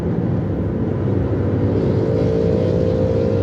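An engine drones loud and steady from a motorbike on the road, a continuous low rumble with no clear rise or fall of a pass-by.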